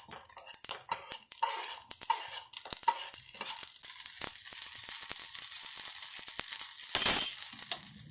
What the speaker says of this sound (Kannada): ಇದು ಗರಿ ಗರಿಯಾಗಿ ಫ್ರೈ ಮಾಡ್ಕೊಂಬರೋಣ.